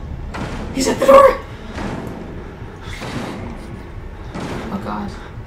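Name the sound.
banging on a door in the video game Outlast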